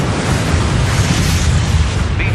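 Explosions from a helicopter strike destroying ZSU-23-4 anti-aircraft vehicles, a dense, loud, continuous roaring rumble of blasts with no clear gaps.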